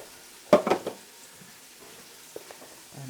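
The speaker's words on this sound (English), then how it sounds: "So we'll just let that saute down for a bit" Carrots, onions, garlic and celery sautéing in a pan as a base for stock, with a brief burst of sizzling and stirring near the start and faint pan noises afterward.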